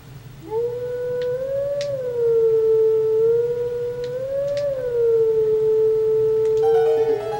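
Wolf Link in Twilight Princess howling a melody at a Howling Stone: a single sustained, wavering tonal howl that rises and falls in pitch for several seconds, loud and clear over soft ambient music, no talking.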